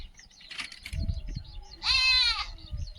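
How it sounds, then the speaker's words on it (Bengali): Goat bleating for its kid, with one clear, wavering bleat close by after some rustling and knocking, followed by a quieter call at the end. "ছাগল তার বাচ্চা খুঁজে বেড়াচ্ছে"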